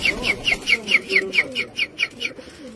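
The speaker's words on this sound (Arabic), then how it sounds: "هذا الحمام." Flying pigeons from Karbala give a quick series of about a dozen evenly spaced, repeated calls, close and clear, which stop shortly before the end.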